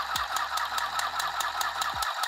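A small sewing machine runs steadily, its needle ticking in a fast, even rhythm with a whirring motor hum underneath; close and fairly loud, with no talking.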